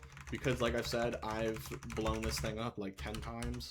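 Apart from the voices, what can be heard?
computer keyboard clicking in the background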